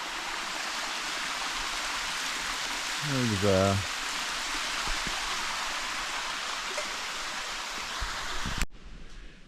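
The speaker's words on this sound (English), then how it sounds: "Right beside the waterfall." A waterfall and stream on Mt Halifax pour in wet weather, giving a constant rushing hiss. A voice speaks briefly partway through, and the sound cuts off abruptly near the end.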